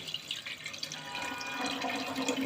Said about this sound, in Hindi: अब मैं इसमें तकरीबन 4 गिलास पानी ऐड करूँगी